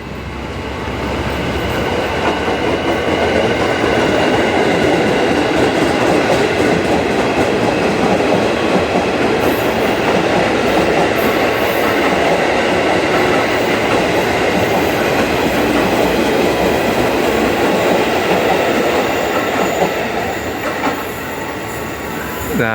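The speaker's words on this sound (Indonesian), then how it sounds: "jalur 2 yang saat ini sedang dipakai oleh KAI Komuter dari arah barat menuju ke timur, dari kota menuju Tanjung Priok" KAI Commuter electric train on a Jakarta line toward Tanjung Priok rolls through a station without stopping: a loud, sustained rumble of wheels on rail with clattering joints and brief high squeals near the end.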